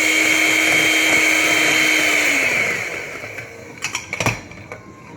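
An electric mixer whirs loudly and steadily as it beats egg yolks in a bowl for a tres leches cake, then winds down and stops, followed by a few clinks and knocks against the bowl.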